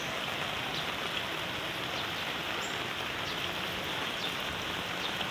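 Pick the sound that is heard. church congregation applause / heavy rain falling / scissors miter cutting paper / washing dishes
heavy rain falling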